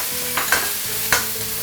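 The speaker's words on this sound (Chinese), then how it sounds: "好，下这个姜、葱、蒜，这个呢是几个干辣椒结合2块的八角，我们下锅" Ginger, scallion, garlic, dried chili and star anise hitting a hot wok, with a few sharp sizzling bursts and scraping stirs over a low steady hiss, close by.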